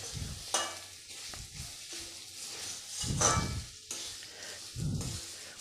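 Grated coconut being stirred into melted ghee in a pan, with repeated scraping and stirring strokes and a soft sizzle, close up, without talk.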